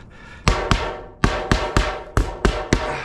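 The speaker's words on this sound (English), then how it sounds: "Don't hit your hand with the hammer either, hurts" Sharp hammer strikes ring out close up during metal roof valley installation, about eight blows in uneven pairs and singles, each with a metallic ring that fades between hits.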